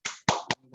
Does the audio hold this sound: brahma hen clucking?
no